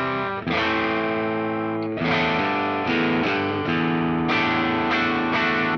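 Harley Benton HB JA-60 electric guitar on the bridge pickup through a mostly clean amp with slight breakup, sustained strummed chords ringing bright and close, no talk.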